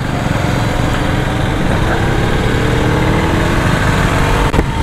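A Husqvarna Vitpilen 250 motorcycle's engine hums steadily while riding, with a continuous loud mid-pitched drone and wind rush and no break throughout.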